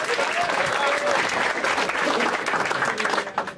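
A live stand-up comedy audience claps together, a dense, steady burst of applause filling the room before tapering slightly at the end.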